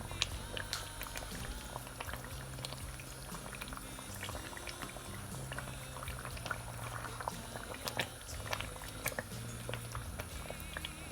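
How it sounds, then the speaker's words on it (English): Corned beef shito, a Ghanaian chili oil sauce, fries in a pot with a steady dense bubbling and sizzling that stays even and fairly quiet throughout. "Going to fry this for about 30 minutes and then we'll go to the next step."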